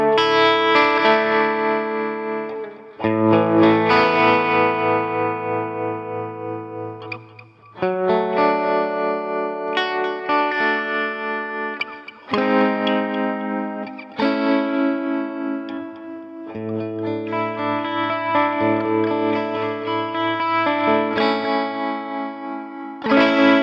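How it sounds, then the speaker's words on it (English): Electric guitar run through a Lekato ME-01 multi-effect unit with tremolo engaged, playing loud sustained distorted chords in several phrases with brief gaps, full and close, with no talking. "Maybe we could try a little bit of tremolo."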